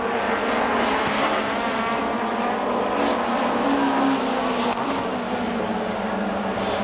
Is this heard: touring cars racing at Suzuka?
yes